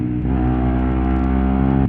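A 125 WRX two-stroke motorcycle engine holds a high, steady buzzing rev, then cuts off sharply near the end, loud and close with no voices.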